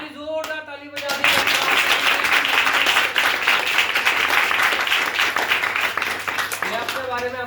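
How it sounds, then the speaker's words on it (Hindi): Loud, sustained applause from a church congregation fills the room for several seconds, steady dense clapping with a voice heard briefly at the start. "हमारी जोरदार ताली बजा दी।"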